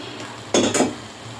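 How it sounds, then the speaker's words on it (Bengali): Water splashes into cumin and spices frying in a pan while prawn pulao cooks: one close, sudden hissing sizzle with a light metallic clatter, lasting under half a second, no voices. "এখন ভাজি করা একটু করে জল দিয়ে দিচ্ছি।"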